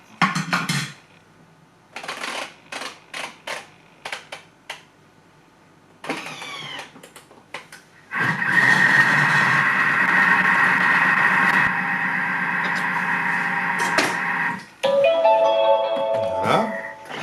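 A kitchen stand mixer whirs steadily at speed 3 through banana bread batter for several seconds, loud and close, after a run of short, separate bursts of other sounds.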